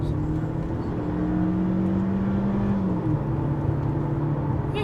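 The 1.6-litre engine of a 2014 Mercedes C180 AMG Sport drones steadily from inside the moving car, its pitch holding and then dropping partway through as it settles after a gear change.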